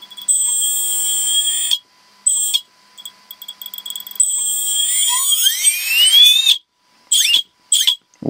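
A budget brushless outrunner motor driven by an ESC whines loudly in high pitched tones, repeatedly starting and stopping, with rising sweeps as it spins up, then short bursts before cutting off.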